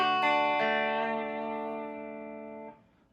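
An electric guitar on a clean amp tone with just a touch of amp reverb: a single strummed chord rings out, re-struck once, then sustains and fades over about three seconds.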